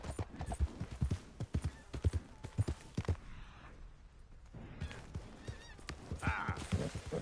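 Horse hooves clip-clop in Red Dead Redemption 2 with a rapid, loud, rhythmic gait that pauses briefly midway and then resumes, with faint game ambience and a rider's short voice in the background.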